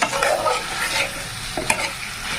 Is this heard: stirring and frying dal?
yes